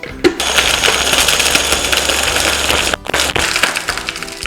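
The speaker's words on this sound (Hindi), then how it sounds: "अभी अपन इसको ब्लेंड करेंगे।" A blender whirring through a Rooh Afza mixture for kulfi falooda, a loud, steady grinding roar that cuts out briefly near the end and then restarts.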